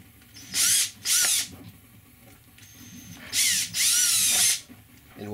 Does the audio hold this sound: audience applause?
no